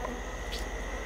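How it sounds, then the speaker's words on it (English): Honey bees buzz at night around a hive close to the listener, a steady insect drone with a faint brief swell partway through, no talking. "They are buzzing all over me."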